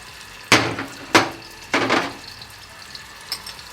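Onions and tomato paste are tipped into a hot pan, three sharp bursts of sizzling, each flaring loudly and then fading, with a quiet clink at the end.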